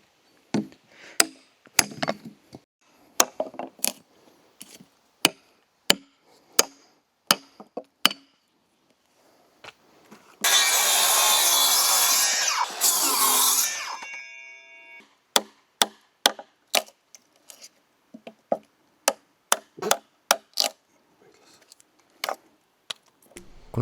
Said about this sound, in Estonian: siis mõtlesime mootorsaega proovida ja see töötas päris okeilt